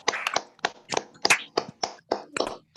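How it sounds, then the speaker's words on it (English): Participants in an online meeting clapping, a sparse series of separate sharp hand claps from a few people, uneven in rhythm and close to the microphone. "let's give an applause for our organizer who did such a great job"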